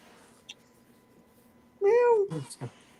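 A single clear cat meow rising and falling, close and loud, followed by a couple of short vocal sounds after a quiet stretch with a faint click.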